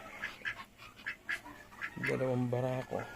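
A Muscovy duck quacks loudly in a quick run of calls near the end, after softer sporadic bird sounds and faint background noise.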